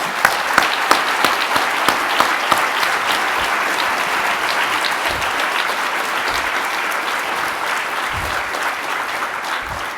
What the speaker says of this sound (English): I wouldn't mind if you gave him another round of applause.